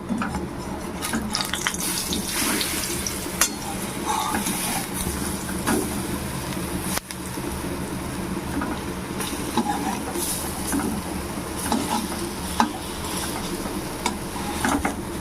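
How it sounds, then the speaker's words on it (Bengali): Soaked-lentil fritters (bora) frying in oil make a steady, fairly loud sizzle with occasional sharp pops and clicks of a utensil, close by and without talk. "আমি বড়াগুলোকে ভেজে নেব"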